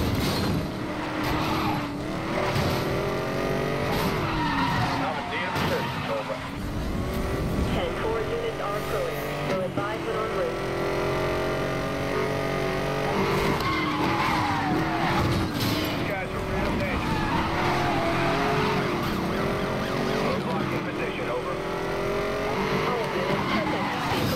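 Car tires squealing and skidding under hard braking in Need for Speed: Most Wanted (2012) while driving a ZR1, with a steady engine roar throughout and a person talking over the game sounds.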